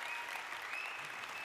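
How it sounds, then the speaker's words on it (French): Steady, dense audience applause fills an indoor evening event in Lyon as a guest is welcomed on stage, a continuous wash of many hands clapping at an even level with no pauses. "S'il vous plaît de faire un tonnerre d'applaudissements à Alexandre Perga"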